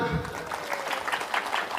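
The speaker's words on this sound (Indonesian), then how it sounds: "Tepuk tangan, tepuk tangan." An audience at a political speech claps briefly after being urged to, a short burst of scattered applause mixed with crowd voices, moderately loud and fading quickly.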